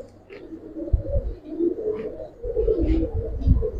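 Silver female Giribaz pigeon cooing close up, a few soft low throaty coos in pulsing bursts with faint rustling between them.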